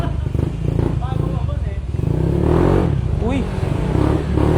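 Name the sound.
CVT motorcycle engine revving during test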